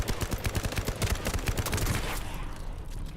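Rapid gunfire from the video game Fallout London, a dense rattling volley of shots that stops abruptly after about two seconds, loud and close with no talk.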